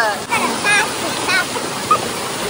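Steady broadband rush of a waterfall close by, continuous and fairly loud, with faint voices occasionally heard under the roar.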